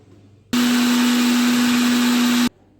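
A mixer grinder whirs loudly and steadily for about two seconds with a strong motor hum, making juice, starting and stopping abruptly against a quiet background.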